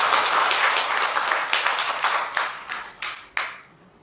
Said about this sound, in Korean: 최 원장의 박수 한번